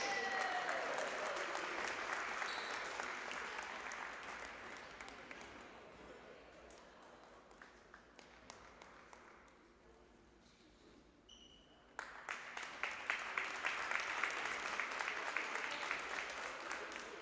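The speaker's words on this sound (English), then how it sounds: "Please give them a round of applause." A home crowd in a school gym applauds senior basketball players on senior night, clapping that fades to a quieter lull and then swells loud again, with an announcer's voice heard briefly.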